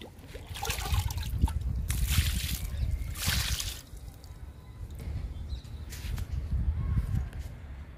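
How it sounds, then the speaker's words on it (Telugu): Liquid fertilizer poured onto bitter gourd plants in a home garden, a close gushing splash in several bursts with pauses between, birds faintly in the background. "లిక్విడ్ ఇచ్చేద్దాము"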